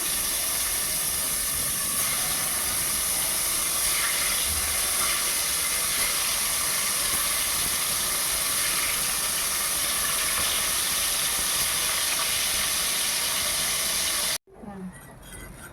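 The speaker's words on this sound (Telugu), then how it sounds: "దాంట్లో వేసి ఫ్రై చేసేద్దాం ఫ్రెండ్స్. హీట్ అయిపోయింది ఆయిల్." Salted fish pieces fry in hot oil, giving a steady, loud broadband sizzle and hiss that runs unbroken for about fourteen seconds before cutting off abruptly to a quieter background.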